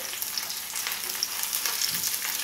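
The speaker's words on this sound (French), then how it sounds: "Dans cette sauteuse, je vais sauter le poivron" Peeled bell peppers sauté in butter in a sauté pan, a dense, bright, steady sizzle crackling close up with no pauses.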